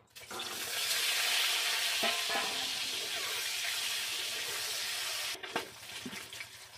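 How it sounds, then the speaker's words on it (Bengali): Eggs fry in hot oil, a loud, dense, steady sizzle that rises quickly and holds, with a few stirring clicks toward the end. No one speaks. "ডিমগুলো ভেজে নিয়েছি, তুলে নেব।"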